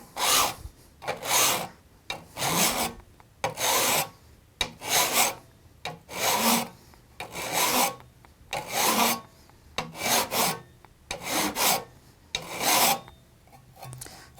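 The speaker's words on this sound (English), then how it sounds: "I'm going to put the card scraper into the vise and file the edge." A metal file rasps along the edge of a card scraper clamped in a vise, about a dozen rhythmic strokes in steady succession, each a bright scraping burst with short pauses between, close and loud with no talk.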